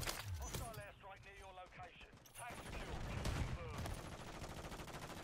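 Rapid gunfire in a Call of Duty match on the cramped Shipment map crackles in dense bursts, mixed with game effects under a player's excited talking.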